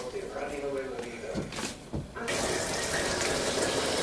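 Water gushes from the cooling hose of an Albin 28 boat engine during an engine test. A few knocks and clunks come first, then a steady, loud rushing flow sets in and holds.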